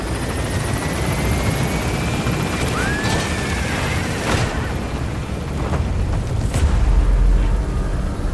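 Helicopter in Metal Gear Solid V lifting off from a landing zone, a loud continuous rotor drone and whine that swells in low rumble near the end, with a few thuds and a rising tone over it.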